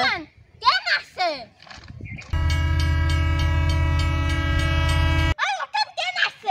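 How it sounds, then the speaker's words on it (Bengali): A train horn sounds in a single loud, steady blast lasting about three seconds, set between stretches of people talking close by. "ওই ওঠেন, ট্রেন আসছে।"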